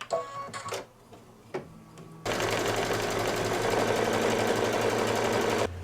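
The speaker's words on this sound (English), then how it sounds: "Now we want to make the placement line" An embroidery machine stitches a placement line for background fabric on a Santa table runner, beginning with a few soft clicks and knocks before settling into a steady, fast, buzzing run that continues to the end.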